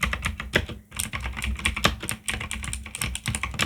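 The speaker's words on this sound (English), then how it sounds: "don't get distracted by the clicking sound" Rapid, crisp key clicks clatter in an uneven stream of close-up typing on a clicky keyboard, with brief pauses between bursts.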